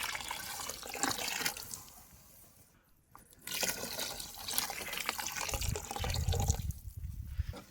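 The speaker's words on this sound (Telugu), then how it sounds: "3 చెంబులు నీళ్ళు పోసుకుందాం." Water poured into a pot of rice for mushroom biryani, three measures in all, with splashing, gurgling pours broken by a short pause near the middle, heard close up.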